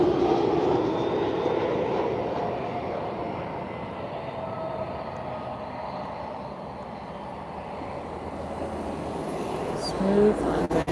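A TAP Air Portugal Embraer jet lands at Lisbon Airport on a sunny afternoon, its distant engine roar a steady broadband rush that dips slightly mid-landing and swells again near the end, with people talking faintly at times.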